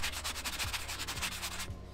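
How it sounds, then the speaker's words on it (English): Short bursts of abrasive scrubbing repeat in quick strokes, a close, raspy sanding of a golf cart brake drum with an 80-grit 3M pad. "I've got a sanding pad, which is a 80 grit 3M pad"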